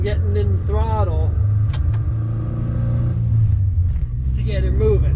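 A manual-transmission car pulls away as the clutch grabs under throttle, a steady low engine drone that rises slightly, with brief whirring and squeaks on top; a voice speaks over it at times.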